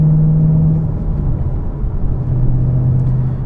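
A 2013 Chevrolet Camaro ZL1 with about 130,000 miles gives a deep, loud engine roar while driving. A steady low drone fills the cabin and the pitch shifts slightly partway through, with no speech over it.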